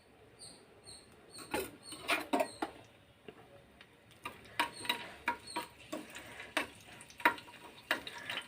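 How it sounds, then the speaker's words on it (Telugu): Crushed garlic dropped into hot oil for a tempering for a moringa-leaf rasam, faint crackling sizzle with scattered pops and light utensil clicks, quiet and close, no talk. "ఆయిల్ కాగిన తర్వాత వెల్లుల్లిపాయ వేసుకుందాం"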